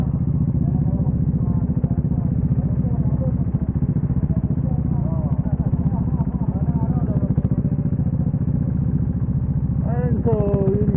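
A motorcycle engine idles and runs steadily up close before a ride to Unisan, a low continuous rumble with speech over it and a brief sharp burst near the end.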